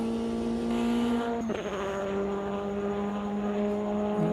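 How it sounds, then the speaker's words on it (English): A high-revving turbocharged race car engine in a racing sim video game drones steadily, with a sharp gear shift drop partway through and another near the end, heard from outside. "There's a serious turbo involved in this car."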